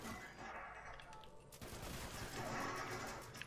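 Continuous rapid gunfire in the Fallout 76 video game, a dense crackling barrage that builds louder partway through and stays busy to the end, with no clear voices.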